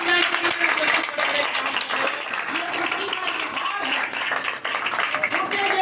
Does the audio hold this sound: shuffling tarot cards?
no